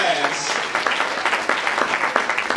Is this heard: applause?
yes